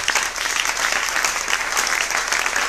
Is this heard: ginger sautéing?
no